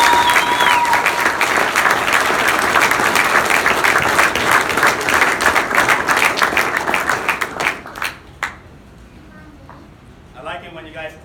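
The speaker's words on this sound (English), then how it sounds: "I like it when you guys clap" A military audience at an Air Force chief master sergeant promotion ceremony claps loudly and steadily for nearly eight seconds before the applause tapers off and a voice begins speaking.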